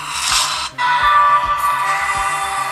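Music plays from the loudspeaker of a TCL S720 smartphone, a loud, thin-sounding track with a repeating low beat and a brief dropout near the start, with no voices.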